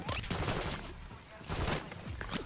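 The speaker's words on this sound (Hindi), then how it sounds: "ये देखो गोलियां चलनी स्टार्ट हो गई" Gunfire breaks out in Call of Duty: Modern Warfare III, loud dense bursts of rapid shots and bangs in two heavy waves with a brief lull between, close and continuous throughout, with no talk.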